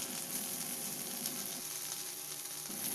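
Eggplant pieces frying in oil in a pan, giving a steady, close, dense sizzle that carries on evenly without pause, no voices.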